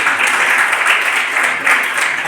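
Dense, loud applause fills the room at a children's poetry gathering held at a school in Kanpur, a continuous wash of clapping that swells briefly near the end.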